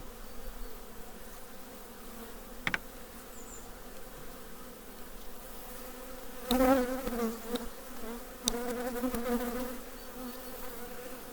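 Honey bees buzz continuously around hive frames as they are lifted from the colony, a dense steady hum with a few sharp knocks and handling bumps partway through, no speech.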